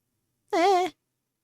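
A kitten in the video game Your Guardian Angel gives a single clear, drawn-out meow lasting under half a second, loud and alone against silence.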